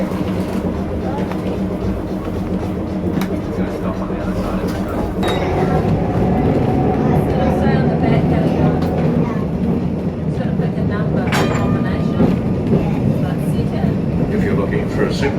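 Tram at a stop in central Christchurch, New Zealand, a steady low rumble and rail hum with faint clinks, heard throughout under a continuous background of street noise.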